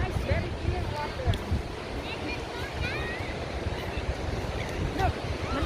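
Surf washing onto a beach with very clear water on Rottnest Island, heard as a steady broadband wash under gusty wind buffeting the microphone, with faint voices in the background.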